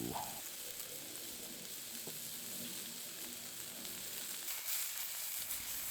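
Steak laid in hot olive oil in a pan sizzles steadily, a close, even frying hiss that runs unbroken for several seconds with a few small crackles, no voices.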